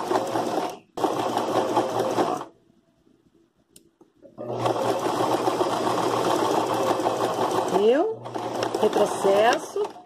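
A domestic sewing machine stitches a zipper onto fabric in steady, close, buzzing bursts separated by a brief pause, with someone speaking Portuguese over parts of it.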